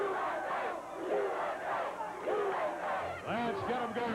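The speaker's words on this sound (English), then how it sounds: "the crowd chanting" A pro wrestling crowd at a July 4th rumble event chants USA in loud, rhythmic waves, the massed voices rising and falling in repeated bursts across the whole stretch.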